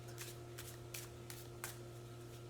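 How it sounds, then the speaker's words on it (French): Tarot cards drawn from a deck during a love reading, giving soft papery swishes and flicks in a steady series of about five brief strokes over a low constant hum, with no voice. "Je vais tirer 4 cartes"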